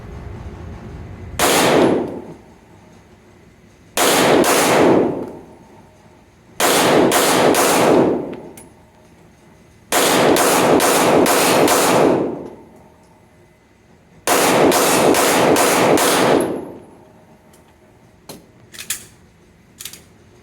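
Pistol shots at an indoor range ring out in sharp, echoing bursts, five groups of rapid reports that grow from single shots to quick strings, with reverberant decay between groups and quiet handling noises at the end.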